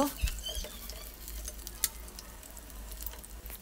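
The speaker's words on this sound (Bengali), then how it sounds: "উল্টে আর এক পাশও লাল লাল করে ভেজে নিব।" Rui fish frying in hot oil in a pan for a Bengali curry, a steady low sizzle with a few soft scrapes and bumps, close and moderately quiet, no talking.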